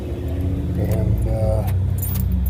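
Keys jangle at close range while a truck door is unlocked, bright metallic rattles over a low steady rumble, with a person talking throughout.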